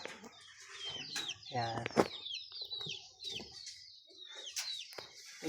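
Chickens on a rural Philippine farm, a rooster among red and yellow hens, give off several short clucks and squawks, one sharp cry near the middle, while someone talks throughout.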